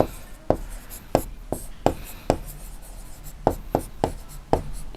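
Pen or pencil writing on paper during a class 6 maths lesson, about ten separate sharp scratching strokes at an irregular pace, close and fairly loud, with no talking over them.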